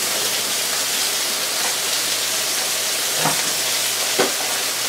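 Brussels sprouts drop into a pan of frying chicken, and a loud, dense sizzle runs throughout with a couple of brief knocks near the end and no voices.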